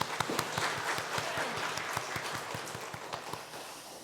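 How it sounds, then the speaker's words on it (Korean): A church congregation applauds in a steady, moderately loud wash of clapping spread across the room, with a regular rhythmic beat pulsing beneath it. "우리 질문을 주신 주님께 영광의 박수 올려드립니다."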